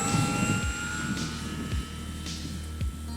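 A Dynam P51 V2 radio-control park-flyer model airplane with a small 4-blade prop on a 3-cell battery takes off in a crosswind, its electric motor holding a steady, fairly close whine over a low background rumble.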